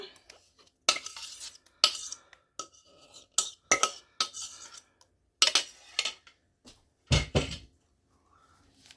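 A spoon mixing mashed banana into banana bread batter in a bowl, with repeated bursts of scraping and stirring separated by short pauses, close and fairly loud.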